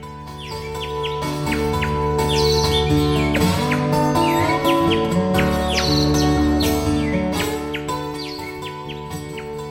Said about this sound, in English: we've got lots and lots of house sparrows around just chirping away